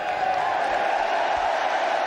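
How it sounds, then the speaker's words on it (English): A large stadium crowd at a cricket match lets out a steady, loud cheer that holds evenly throughout, like a distant roar. "And a big cheer, as you'd expect."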